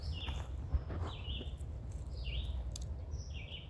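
A red-eyed vireo sings along a nature path in short, repeated whistled phrases separated by brief pauses, moderately close over a low outdoor rumble.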